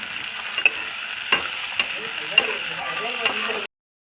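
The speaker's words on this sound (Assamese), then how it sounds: "আৰু মই এতিয়া কেৰাহী এটাত অলপ তেল লৈ লৈছোঁ" Onions fry in refined oil in a kadai, giving a steady close sizzle broken by several sharp stirring scrapes before the sound cuts off abruptly.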